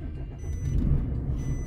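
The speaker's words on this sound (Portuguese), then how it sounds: "Pessoal, vai sair aqui o caminhão, né? Que tá aqui do lado." A truck pulls out of a parking space beside the camera, giving a low, steady engine rumble at close range that swells slightly midway, with no talking.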